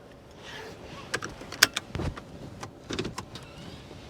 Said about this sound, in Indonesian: Langsung saja kita jalankan mobil ini.